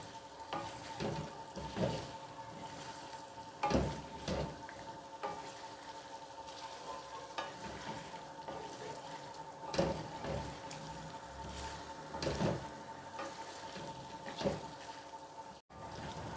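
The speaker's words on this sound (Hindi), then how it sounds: "ऑयल में फ्राई करेंगे।" Chicken karahi frying in oil in a pan gives a quiet, crackling sizzle, with irregular spoon stirs and scrapes throughout and one sudden dropout near the end.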